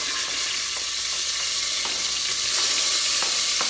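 Onions frying in beef lard give a steady, close sizzle, with occasional stirring clatters over the continuous crackle.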